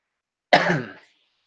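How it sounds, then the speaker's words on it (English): A single burst of coughing that rasps into a throat clear, close and fairly loud, about half a second long, with silence on either side. "I don't know why I'm getting this cough."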